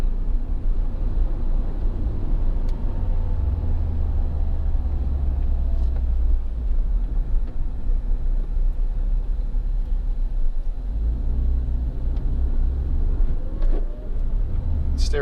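A 2011 Suzuki Swift 1.6 VVT Sport three-door hatchback drives at higher road speed, its steady engine and tyre rumble forming a continuous loud cabin drone that swells slightly near the end.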